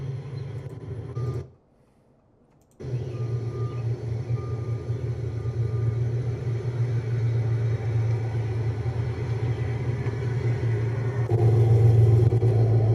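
A 2024 S650 Ford Mustang GT Pursuit police car engine rumbles steadily at close range, cutting out briefly before resuming and rising slightly in revs toward the end.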